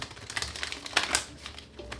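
Tarot cards being shuffled during a reading, a quiet run of soft papery riffles and crinkly taps in uneven bursts, with one sharper flurry near the middle.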